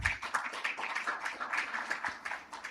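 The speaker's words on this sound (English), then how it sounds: "Please give him a big, big round of applause." A conference audience gives brief, moderately quiet applause to welcome a real-estate executive speaker at an outdoor advertising industry event. The clapping is scattered and steady.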